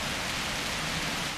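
Steady rain falls in the video game Dead Frontier 2, a dense even hiss of drops hitting surfaces, moderately loud and unbroken for a brief moment with no voices.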